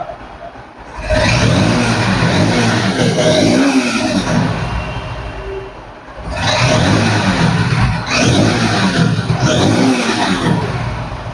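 A used Honda XBlade 160cc ABS motorcycle in showroom condition runs loud and close, its engine droning steadily with two rising revs and brief dips between them, and no talk over it.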